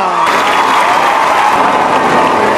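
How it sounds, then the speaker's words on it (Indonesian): A large crowd at a school reunion breaks into loud, sustained applause, a dense continuous wash of clapping that holds steady throughout, with possible faint cheering. "Mari kita tepuk tangan yang meriah."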